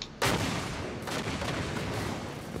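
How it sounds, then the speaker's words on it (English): A railgun fires in Halo 5, a loud sharp blast at the start followed by a sustained roaring, crackling energy discharge that holds steady, with a second surge partway through. "This gun, this railgun fires so weirdly."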